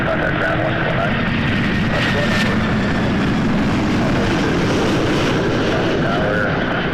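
An airliner approaching runway 24 left at Toronto airport roars steadily and broadly at a good speed, a continuous engine rumble heard from a distance, with no talk over it.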